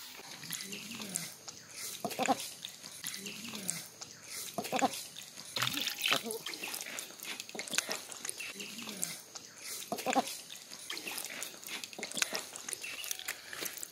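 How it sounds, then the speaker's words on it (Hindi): Cut pieces of fresh foli fish being washed by hand in water in a village, with steady splashing and sloshing that rises and falls in short bursts throughout. "तो देखिए, हमने यहाँ पीस कर लिया है मछली को। तो इसे और एक बार अच्छी तरह से धो लेंगे।"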